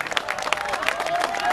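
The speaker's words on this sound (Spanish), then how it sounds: "los vamos a despedir brindándole un fuerte aplauso." An audience at the Feria de Mataderos street fair claps for two departing musicians, a brief dense burst of applause close by with scattered crowd noise.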